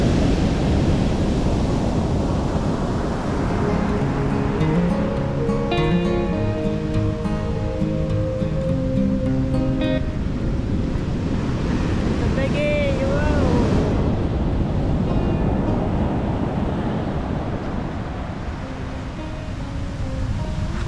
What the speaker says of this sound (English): this is the Pacific Ocean putting on a good display for us today of these impressive breakers